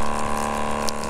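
A water pump on an overland 4x4 truck pushing water out through a Gazelle H2O spigot, giving a steady, continuous hum with a gushing flow that holds level throughout, with no talking.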